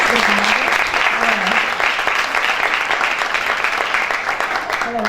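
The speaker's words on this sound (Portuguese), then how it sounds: "Palmas aqui para vocês" Audience at a mentoring day debate event applauding, a loud, sustained burst of many hands clapping that holds steady throughout, with a little voice sound underneath.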